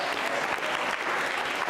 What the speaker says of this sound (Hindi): सौम्या शर्मा के लिए तालियां जोरों से बजाइए, जोरदार तरीके से